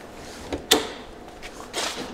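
Door of a 1959 Morgan Plus 4 car, a few light mechanical knocks and one sharper solid latch click, followed by a soft shuffling rattle, close and quiet with no speech.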